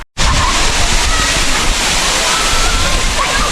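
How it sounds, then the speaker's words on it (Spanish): The 70-metre Cascada de los Frailes near Pereira thunders in a loud, dense, steady roar of falling water, close by and unbroken after a brief silent start. "70 metros de cascada, chicos. Cascada de los Frailes."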